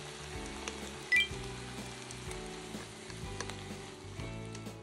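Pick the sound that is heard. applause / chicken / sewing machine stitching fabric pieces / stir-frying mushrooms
stir-frying mushrooms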